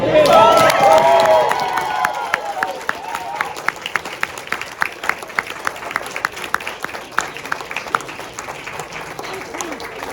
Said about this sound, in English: I can hear some applause here.